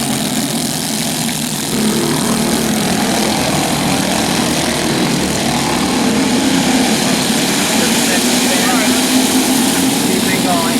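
Go-kart engines race on a kart track during a race restart, a loud continuous buzzing drone of several small engines throughout, steady and near, with no talk over it.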